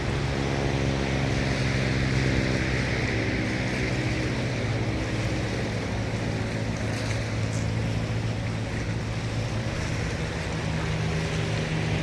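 Sea waves crash and wash continuously near a shore at Dolomite beach, a broad, steady roar of surf with a low rumbling undertone, close and loud throughout with no speech.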